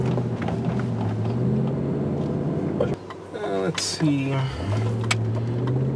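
A 2001 BMW 740i pulls away, its engine a steady low hum under the cabin with a brief shift in tone midway, while a person briefly speaks nearby.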